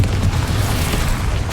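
Confringo spell blast in Hogwarts Legacy: a short, loud, deep booming burst that rumbles low and fills the moment, alone without talk.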